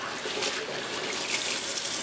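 Kitchen tap running while hands are washed, a steady soft stream of water splashing into a sink, continuous and fairly quiet throughout.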